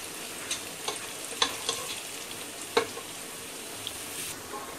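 Whole garam masala roasting with cumin in a pan, a faint steady sizzle broken by a few soft crackles and light stirring scrapes.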